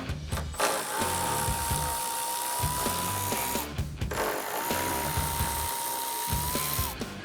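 A power tool spins out 10mm taillight bolts on a Toyota Tacoma with a steady whining whir. Two sustained runs of about three seconds each are separated by a short pause, close and alone with no talk.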